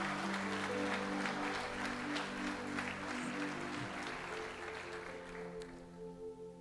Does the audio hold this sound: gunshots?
no